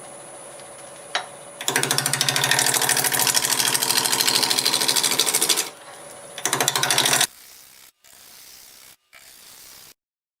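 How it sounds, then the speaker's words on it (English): A roughing gouge cuts a sequoia blank spinning on a wood lathe at around 700 to 800 RPM, giving a loud, steady rasping roar in two long passes over the machine's hum, which then drops to a quieter whir. "I'm going to take a roughing gouge and just try to true it up a little more."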